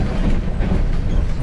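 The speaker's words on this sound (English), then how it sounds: "We are riding a train from Tashkent to Samarkand." Loud, steady rumble of a passenger train travelling from Tashkent to Samarkand, heard from inside the compartment with a continuous low rolling noise.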